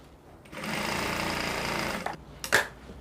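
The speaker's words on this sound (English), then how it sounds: "you now take to the sewing machine and then you stitch here together" Sewing machine stitching fabric for an outside pocket, a steady fast mechanical whir lasting about a second and a half, close and alone, followed by a brief clatter.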